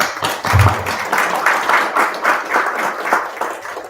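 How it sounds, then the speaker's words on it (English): An audience at an EIAS event on Kazakhstan's independence bursts into applause, a dense steady patter of many hands clapping in a hall, moderately loud and fading at the end. "Let's applaud these wonderful people."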